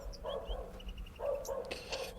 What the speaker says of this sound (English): Oh, I hear a dog.